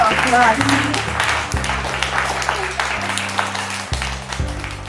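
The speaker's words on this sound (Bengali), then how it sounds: "একটা হাততালি হয়ে যাক।" An audience claps and cheers for mother-and-daughter teams at a family contest in a Rampurhat jewellery store. The steady, close applause runs throughout, layered under loud background music.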